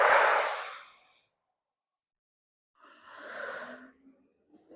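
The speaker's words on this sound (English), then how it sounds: "as you go up, I want you to let that breath go" A person doing a stretching exercise breathes out slowly through the mouth in a breathy, airy rush that fades out, then after a pause gives a second, softer exhale, heard close up with no talking.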